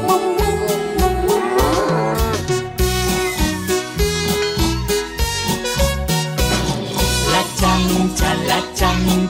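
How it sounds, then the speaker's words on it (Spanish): A cow's moo, as in a children's farm song, rings out repeatedly over a loud, bouncy music track with a steady rhythm that runs the whole time. "¡La vaca hace mu!"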